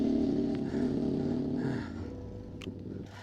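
A motorcycle passes along a road during a bikepacking ride, its engine a steady, moderately close drone that fades as it moves away.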